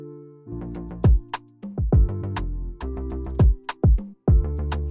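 Synth keys play chords over a punchy afro chill drum beat with kicks and snares, loud and rhythmic, no voices.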